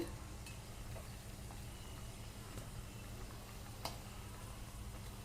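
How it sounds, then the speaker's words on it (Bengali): Cheese fritters frying in hot oil, a faint, steady sizzle and bubbling with an occasional light clink, heard close and without talk. "বাকি গুলাগুলো দিয়ে আমি সব এইভাবে ভেজে নেব"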